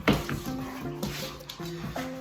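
Puppies whimpering and whining softly in a series of short, high-pitched cries close by, against a steady background hiss.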